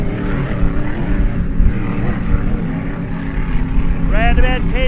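GP hydroplane powerboats at a powerboat club race on Lake Glenmaggie, a loud, continuous engine drone as they line up to start, with a commentator talking over it.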